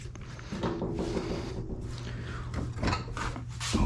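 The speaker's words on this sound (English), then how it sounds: "Open our door back up." A pickup truck door on a 1999–2007 Chevrolet Silverado is opened during a tow mirror install, giving a close, muffled mechanical clunk and rustle with some handling noise.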